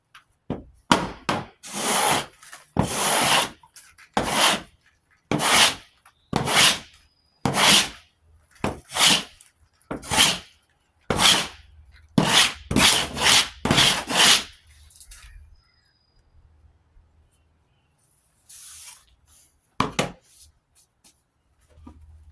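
An electric sander works wooden Hampton Bay Sinclair ceiling fan blades in repeated short bursts of rough rasping, several passes stopping and starting, then falling mostly quiet with a couple of brief strokes near the end.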